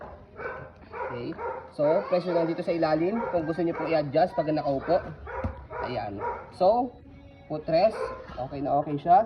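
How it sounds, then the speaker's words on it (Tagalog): A neighbour's dog barks and yips persistently in the background while someone speaks over it indoors, the barking loud and near throughout. "pasensya na kayo sa aso ng kapitbahay, maingay"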